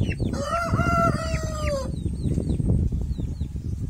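A Rhode Island Red rooster crows loudly and close for about two seconds over steady clucking from the flock, then soft clucks and high peeping chirps continue alone.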